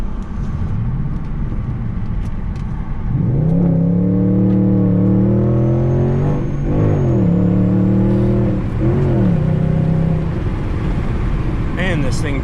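Audi S5 engine revving up through its range, the pitch climbing in rising sweeps with a strong harmonic drone, close and loud, with someone talking over it.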